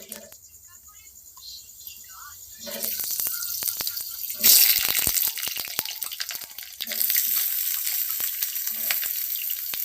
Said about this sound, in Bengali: এবারে আলুগুলো ভেজে নেবো, আলুর দমের আলুগুলো।